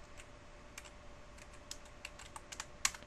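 Quiet keystrokes on a computer keyboard tap out in an irregular series, close and faint, ending in a slightly louder cluster of clicks with no talking.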